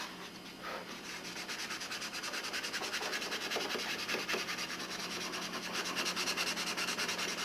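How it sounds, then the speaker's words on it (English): Continuous rasping sandpaper rubbing over the balsa wood of a 1987 Nobler control-line model airplane, steady back-and-forth strokes close by with no talking. "I'm just doing some final sanding."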